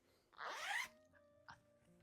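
A zipper on a crocheted makeup bag opens in one long, close, scratchy pull, followed by a short second zip tug, in a quiet room.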